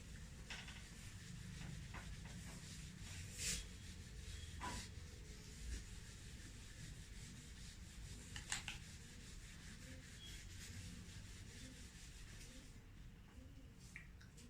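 Writing erased from a board by rubbing, a steady soft scrubbing hiss over a low hum, with a few faint taps along the way.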